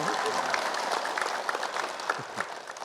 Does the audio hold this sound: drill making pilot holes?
no